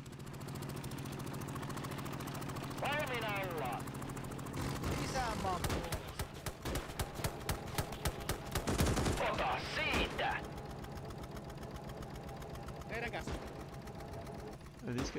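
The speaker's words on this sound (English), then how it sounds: "I'm taking fire from a bunch of different places right now" Gunfire in Call to Arms: Gates of Hell, Ostfront: rapid bursts and single shots crackle from several directions through the middle of the scene, loud and dense, over a steady low battlefield hum.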